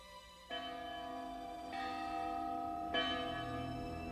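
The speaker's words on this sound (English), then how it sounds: "a church bell signaled the alarm" A church bell rings out as an alarm at the Battle of the Alamo, its sustained harmonic tones swelling in fresh strikes at intervals and ringing on steadily throughout, fairly loud and alone.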